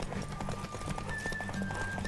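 Horse galloping in The Witcher 3 video game, steady rhythmic clip-clop of hooves at a quick pace, close and continuous over game ambience.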